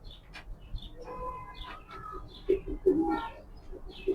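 Racing pigeons from a single loft coo softly in low, throaty bursts that swell near the end, while faint background chatter runs underneath.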